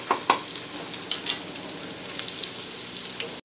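Garlic and ginger paste frying in hot oil for a tadka to top masoor dal, a steady close sizzle with a few sharp crackles and spatters early on, running alone without voices.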